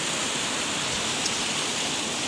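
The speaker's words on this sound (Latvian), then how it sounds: "Joprojām ūdenskritums, jeb uģiņš ir fotografējams un tiešām labi izskatās." A waterfall near Cēsis, Latvia, spilling over stones by an old mill site, gives a steady broadband rushing roar that holds even and close throughout, with no voices over it.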